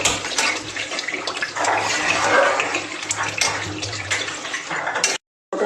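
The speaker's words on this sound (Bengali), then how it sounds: "জল দিয়ে দিলাম।" Water poured into a hot pan of frying potatoes for a catla fish kalia curry, a steady broadband splashing and hissing pour lasting about five seconds, close and fairly loud, then stopping abruptly.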